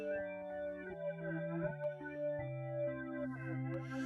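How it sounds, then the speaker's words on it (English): A Yamaha YC61's F1 organ, an FM-generated sine-wave electric organ voice, plays through a flanger effect: sustained chords whose tones sweep and swirl, fairly quiet and alone. "do you hear the flangey sound?"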